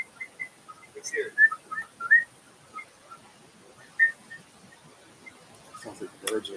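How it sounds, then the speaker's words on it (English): Faint, scattered high chirps like small birds sound intermittently in a quiet room, with some soft background noise. "Sounds like birds are in here."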